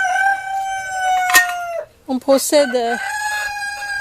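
Hens cluck and a rooster crows loudly nearby as birds are reintroduced into a flock's pen, with a voice speaking briefly between the calls.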